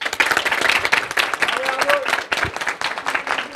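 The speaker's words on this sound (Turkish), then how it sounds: "O zaman Elif'i alkışlarla uğurlayalım." An audience at an office award ceremony applauds, with dense, steady clapping that carries on for several seconds and fills the room, while voices mix in underneath.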